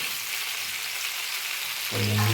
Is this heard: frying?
yes